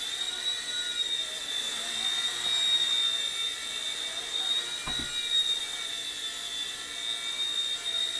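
A small Hisky HFP100 V2 single-rotor RC helicopter flies nearby with a steady high-pitched electric whine and buzzing rotor hum that holds throughout, with a faint brief thump midway.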